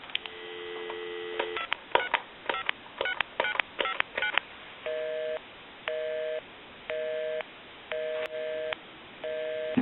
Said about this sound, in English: now what I want to do is I want to dial my number